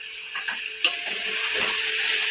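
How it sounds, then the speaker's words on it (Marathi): Mustard greens get stirred and mixed in a pan, giving soft scraping and clinking strokes with a brief sharper tap near the start, over a faint steady sizzle and hiss, close by and without talk. "आता हे एकदम मिक्स करायचं."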